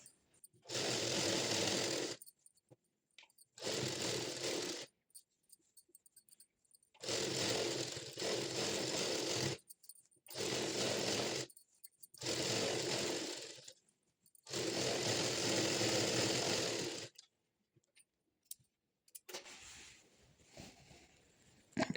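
A sewing machine stitches a patiala pant in bursts of steady whirring, about eight runs of one to two seconds each separated by short pauses, close and alone with no talk.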